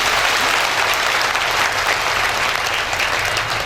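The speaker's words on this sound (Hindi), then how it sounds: "तो ताली बजाएं खुद के लिए।" Hall audience at a Brahma Kumaris stress-relief session clapping for themselves, a thick, continuous wash of applause from many hands, loud and unbroken throughout.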